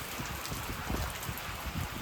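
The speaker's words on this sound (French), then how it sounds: "en plus il y a de la grosse pluie depuis tout à l'heure là." Heavy thunderstorm rain in Corrèze, France, drums hard and continuously, with close, thick pattering of drops on a nearby surface and no voices.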